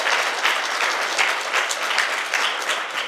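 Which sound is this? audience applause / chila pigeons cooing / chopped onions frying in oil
audience applause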